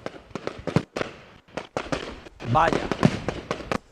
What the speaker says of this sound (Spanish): nos vamos directamente a los fuegos artificiales